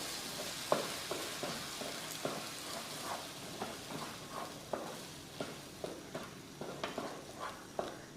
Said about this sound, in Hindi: मीडियम फ्लेम पे इसको हम 10 से 15 सेकंड अच्छे से भून लेंगे